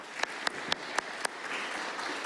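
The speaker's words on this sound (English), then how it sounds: "A round of applause." An audience at a talk on inclusive design claps a few sharp, evenly spaced beats that swell into a softer, continuous wash of applause heard from a short distance.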